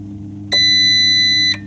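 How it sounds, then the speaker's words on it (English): Gralab darkroom timer sounding a loud, steady electronic beep for about one second after a short two-second countdown, starting abruptly and stopping cleanly over a low background hum. "it'll beep after the time is done"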